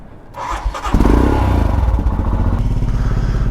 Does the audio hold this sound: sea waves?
no